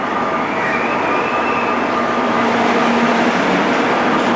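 A double-decker passenger train pulls into a station in Israel, a loud, steady rumble of wheels and carriages rolling close by with a faint squeal, with no voices over it.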